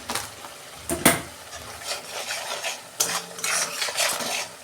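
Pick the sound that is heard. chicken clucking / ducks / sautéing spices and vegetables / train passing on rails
sautéing spices and vegetables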